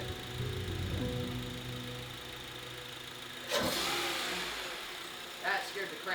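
The rebuilt engine of a crashed 2010 Honda Accord runs close by with a steady hum, then gives a sharp burst and a revving surge, with voices talking over it.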